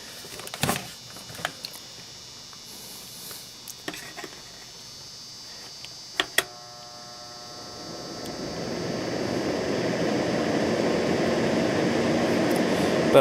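An electric fan is powered from a cheap inverter. After a few scattered clicks and knocks, a whirring rush swells gradually and settles into a steady hum with a faint tonal whine.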